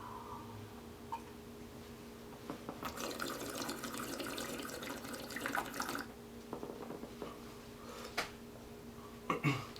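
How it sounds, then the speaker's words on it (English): Bubbling, gurgling water as a beatboxer pulls bubbles through a straw, running steadily for several seconds, quiet and close, with a few sharper splashes and pops near the end. "I'm going to first moisten my throat by pulling some bubbles through water"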